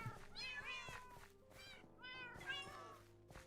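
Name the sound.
cat meowing in Minecraft video game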